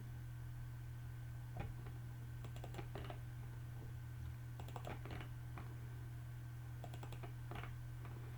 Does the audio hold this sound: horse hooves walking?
no